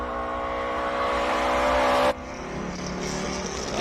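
A classic Datsun race car at the Simola Hillclimb screams past at high revs. Its loud, tonal engine note holds, then drops abruptly midway, falling to a lower rasping drone as the car moves away.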